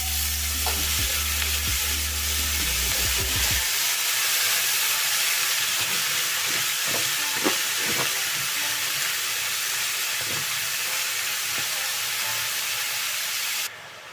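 Chopped bottle gourd drops into a pan of hot spice tempering over a low flame, bursting into a loud, continuous sizzle with scraping stirs and clatters of the spoon throughout.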